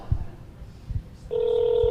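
Telephone dialing tones on a speakerphone: three short low thumps, then a steady bright touch-tone beep sustained to the end, close and clear, with faint talk in the background.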